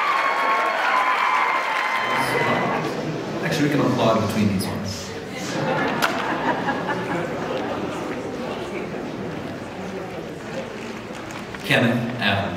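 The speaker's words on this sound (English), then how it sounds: "Actually, we can applaud between these ones." An audience at a high school senior show and awards night applauds between award announcements, with a dense burst of clapping and some crowd chatter that swells after a brief pause and carries on steadily.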